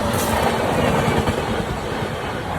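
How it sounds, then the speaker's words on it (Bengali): A train runs along a railway line close by, a loud continuous rumble with rhythmic wheel clatter under a stormy sky, with no voices. "এই যে ট্রেনটা যাচ্ছে"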